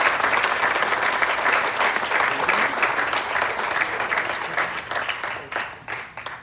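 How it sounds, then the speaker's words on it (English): An audience at a 2021 Hall of Fame induction ceremony gives a sustained round of applause, dense and steady at first, then thinning and tapering off toward the end. "One more round of applause for everybody."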